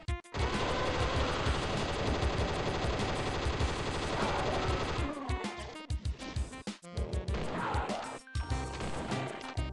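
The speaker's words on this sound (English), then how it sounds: "So yep, that was a plasma rifle." Heavy, rapid weapon fire from a plasma rifle replacement in a Doom 2 mod, a dense loud barrage for about five seconds that then breaks into scattered bursts and single shots.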